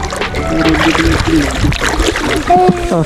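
A small rowboat glides across a water-lily wetland as feet drag in the water, giving soft splashes and trickling under nearly continuous talk.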